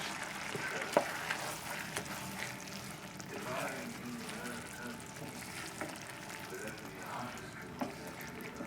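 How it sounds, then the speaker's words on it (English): A mushroom, okra and turkey risotto is stirred in a pan, giving a soft, continuous scraping and gentle sizzle with occasional spoon clicks, faint and close, under a speaking voice. "So we'll keep mixing this for the remainder of the 5 minutes."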